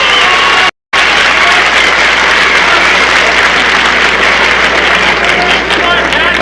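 A 1962 St. Louis wrestling crowd at the Pat O'Connor versus Lorenzo Parente match applauds loudly and steadily, a dense roar of clapping with one brief dropout near the start.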